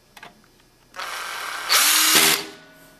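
A power screwdriver drives a screw into the formatter bracket of a laser printer. A faint click comes first, then a whirring buzz that rises into a louder grinding burst before cutting off, heard close up.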